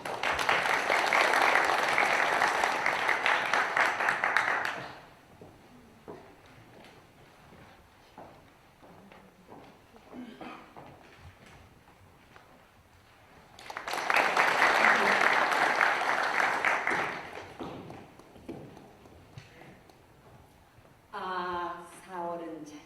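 Audience applause swells at an education event, with two loud bursts of clapping separated by quieter talk and movement, then a voice at the end.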